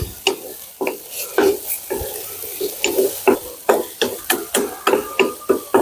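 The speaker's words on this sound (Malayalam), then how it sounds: "ഇവിടെ ഒന്ന് ഇളക്കി കൊടുക്കാം" Vegetable spring roll filling fries in a pan while a spoon stirs it in quick rhythmic scrapes, each stroke rising over a constant close sizzle.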